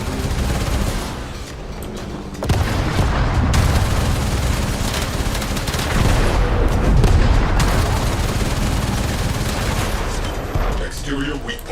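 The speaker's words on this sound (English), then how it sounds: "All hands brace for missile impact." Missile impacts and explosions hit a Railjack ship in the Warframe video game, with a dense, loud, continuous roar of blasts and gunfire-like bursts that swells and rumbles for several seconds.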